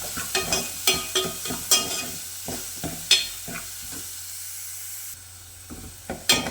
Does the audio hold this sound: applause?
no